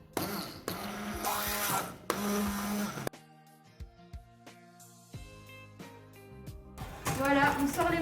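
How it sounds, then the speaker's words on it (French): An immersion blender whirs through mascarpone, icing sugar and liquid cream for a pavlova topping in two bursts, with a gentle melody between them before the motor returns. "je me suis munie de mon mixeur plongeant et c'est parti"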